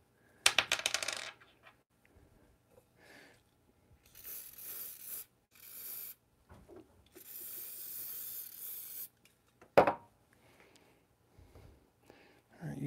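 Dry lube sprays in a few short, quiet hissing bursts onto a metal reloading die, with sharp metallic clinks and small handling clicks in between and a lot of near silence.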